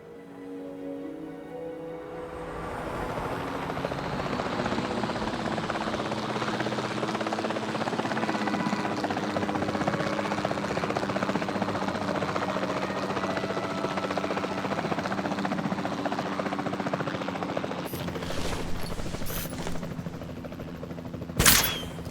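A helicopter in the video game Jurassic World Evolution 2 hovers over Arizona terrain with a steady, loud rotor drone that swells in and holds, ending with a few sharp pops near the close.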